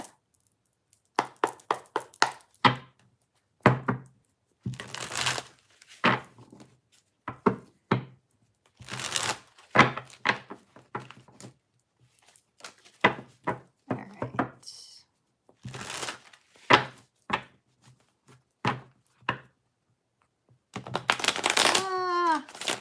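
Tarot cards shuffled up close in quick, crisp bursts of riffling and slapping, broken by short pauses, ending in a longer flutter.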